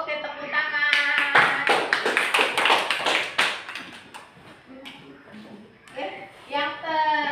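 A classroom of children claps hands in a lesson on worm infections, a burst of fairly loud, rhythmic clapping in the first half that fades as children talk and shout over and after it.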